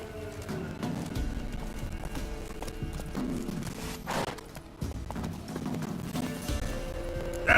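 Hooves pound in a continuous gallop as Roach, the horse from The Witcher 3, runs on, with a low rumbling game backdrop and a brief snort or whinny-like burst midway.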